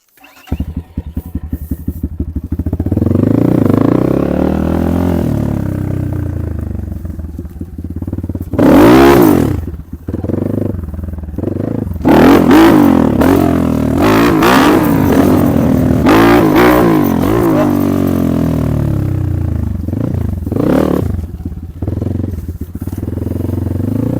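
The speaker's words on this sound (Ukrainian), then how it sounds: "послухайте мотоцикла" A GEON GNS 300 carbureted motorcycle engine revs up and down repeatedly while riding, loud and close, with throttle blips and sustained acceleration throughout.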